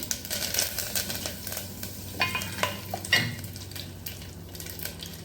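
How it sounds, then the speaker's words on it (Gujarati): Mustard seeds and cumin splutter in hot oil for masala khichdi, a close crackling sizzle with scattered sharp pops and a couple of louder bursts over a steady frying hiss, with no talk. "રાય જીરું તતરી જાય એટલે આપણે આ મીઠા લીમડાના પાન ઉમેરી દઈશું"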